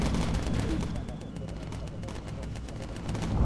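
Rapid gunfire from bomber turret guns in the Bomber Crew video game, a dense rattle of sharp repeated shots under continuous game noise at moderate level.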